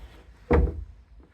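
A panelled sliding cabinet door on a reclaimed timber piece moves and bumps once, making a single close, dull wooden thunk with a short rumbling tail over a quiet background.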